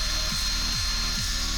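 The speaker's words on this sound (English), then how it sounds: "This is on my fast speed on my drill and it's still going slow, but it's going." Power drill twisting 36 gauge wire into fused Clapton coils, a loud steady mechanical whir with a rhythmic pulsing sweep repeating about every half second.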